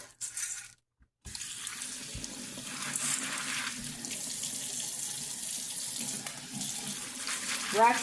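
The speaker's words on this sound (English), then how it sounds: "So I'm going to wash these really good, and you kind of look in the sink" Dry beans are rinsed in a kitchen sink under a running tap, a steady close splashing with brief clatter and a short pause near the start.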